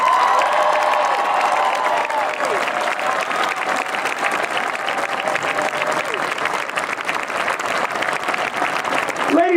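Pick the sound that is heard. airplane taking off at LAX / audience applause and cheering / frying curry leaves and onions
audience applause and cheering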